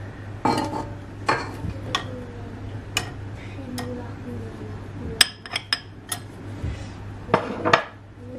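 Lemon cake batter with flour being stirred in a bowl, a utensil clinking and scraping against the bowl in scattered knocks over a steady background hum.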